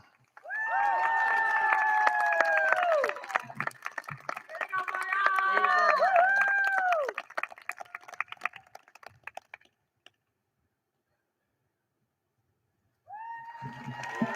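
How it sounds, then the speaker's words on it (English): An audience claps steadily for award recipients at the Scriber Lake High School Class of 2023 graduation, heard beneath an announcer's voice. The applause fades out, there is a brief silence, and then speech resumes. "a nice round of applause for our award recipients"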